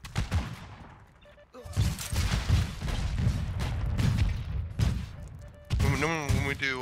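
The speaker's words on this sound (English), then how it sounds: "Who is shooting at me with a frickin'... Oh, it's the AA gun" Anti-aircraft gun fire in the video game Heroes & Generals, rapid bursts of booming shots rolling under someone talking, fairly loud and continuous through most of the stretch.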